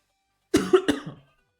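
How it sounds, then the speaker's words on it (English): A single person coughs close to the microphone, a short burst of three or four rough, fading hacks in otherwise silent surroundings. "I'm coughing."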